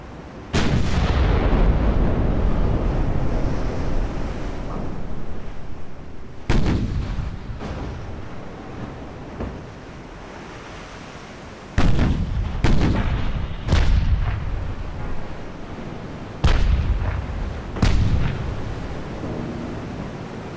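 Heavy naval gunfire booms from warships in a battle game, with several loud, deep blasts set apart by rumbling gaps over a continuous roar of sea and battle noise, plus ricochet hits scattered between the salvos.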